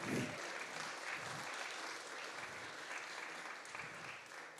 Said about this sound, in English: How about a round of applause for Bill Firestone?